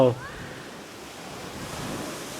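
Sea waves wash onto a beach during a release of baby turtles, a soft continuous surf rush with light wind noise after a brief voice at the start.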